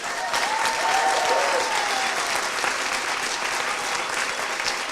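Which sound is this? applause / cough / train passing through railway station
applause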